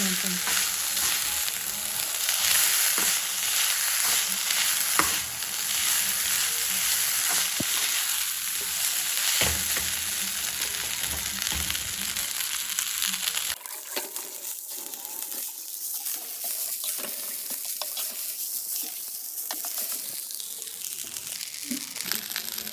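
Leftover rice sizzles and crackles as it is stirred and fried in a pan, a steady close frying hiss with scraping stir strokes; the sound thins out and quiets partway through, with no talking.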